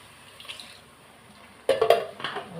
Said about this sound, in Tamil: கொஞ்சமாக நான் மிக்ஸி கழுவின தண்ணியை ஊற்றிக்கிறேன்